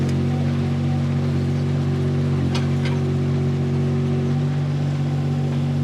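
Groundhog ZH25D-3 mini-excavator engine running steadily up close, a loud continuous diesel drone with a slight rise in throttle, no talking.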